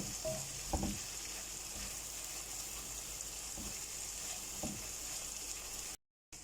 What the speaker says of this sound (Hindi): मसाले को हम अच्छी तरह से भून लेंगे।